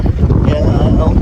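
A strong wind buffets the microphone aboard a boat on open water in a brief, loud, continuous rumble, with a voice partly heard beneath it.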